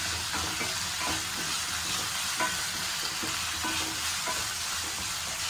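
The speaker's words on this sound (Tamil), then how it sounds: "தேவையான அளவுக்கு உப்பு ஆட் பண்ணிவிட்டு நல்லா வதக்கிக்கோங்க" Onion and a medium tomato with salt sauté in a pan for a chutney, a constant close sizzle overlaid by rhythmic scraping strokes of a spoon, with no voices.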